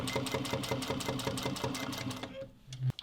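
A sewing machine runs a steady, close stitching burst joining two short edges of bucket bag strap pieces, with a fast even rhythm that stops near the end before a brief clunk.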